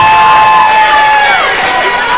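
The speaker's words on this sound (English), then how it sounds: "As the Greyhounds fans are standing up, clapping as Poole walks off." Baseball fans at a high school playoff game cheer and clap from the stands, a loud continuous roar of crowd noise with whoops, steady and dense throughout.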